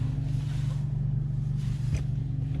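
A tuned 10th-generation Honda Accord 1.5T with a 3-inch exhaust drones steadily inside the cabin, a low, even rumble that holds at a constant level while the car cruises.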